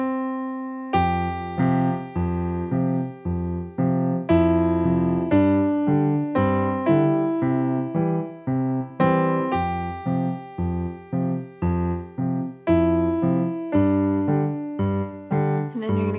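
Piano playing an easy arrangement of a song with both hands, steady rhythmic chords and melody struck in a regular pattern, close and clear with no talking.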